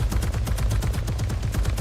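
Rapid automatic gunfire rattles out in Ark Fjordur, a fast, even burst of sharp shots repeating roughly ten times a second, moderately loud and with no talking.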